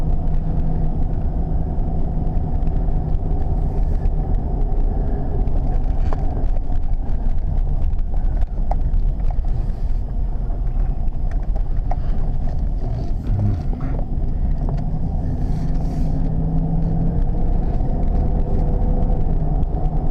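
Continuous low engine and road rumble from a 1995 Mercedes S500 driving after being shifted into drive, heard from inside the cabin with light wind noise and no talking.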